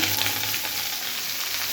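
Steady crackling sizzle of chopped okra frying in hot oil after mustard seeds have popped, close and continuous, with no talking.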